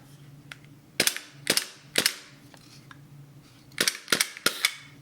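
A Glock 17 gel blaster with a MOS slide cycles as it fires, giving seven sharp, close snapping shots, spread across the span in a loose sequence of single and paired cracks.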